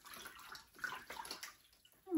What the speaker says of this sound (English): I'm actually going to take this pulp and pour it into this larger container